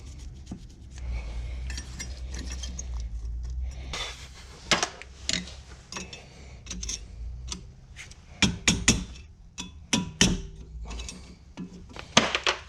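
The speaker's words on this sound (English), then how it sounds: "the best way to install this is by tapping it in with a hammer" A hammer taps new rear brake pads into a caliper on a Porsche Cayenne 958, giving quiet, irregular metallic knocks and clicks with some scraping, clustered in a few quick bursts.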